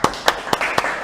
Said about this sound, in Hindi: तालियां बजाओ यार सब